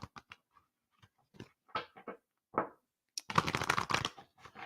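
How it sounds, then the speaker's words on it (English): Tarot cards are shuffled and handled in a string of short, dry riffles and taps, starting sparse then building to a denser burst of flicking before tapering off; no voices. "Let me get these cards pulled."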